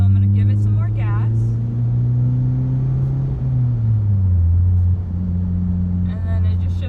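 Manual transmission car pulling away and gaining speed on a road, a loud steady engine drone rising then dropping in pitch near a gear change, close and continuous, with brief speech over the engine at the start and end.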